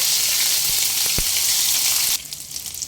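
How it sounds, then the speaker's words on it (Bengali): Ginger garlic paste frying in hot oil while being stirred, a loud close sizzle with a couple of sharp utensil clicks, dropping in intensity near the end. "আদা রসুনে কাঁচা গন্ধটা চলে যাওয়া পর্যন্ত একটু নেড়ে নেব"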